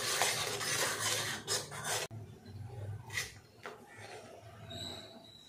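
Spoon stirring a rice flour mixture in a pan for a bread and milk malai roll sweet, a close, continuous scraping rub that turns quieter and sparser after a brief break.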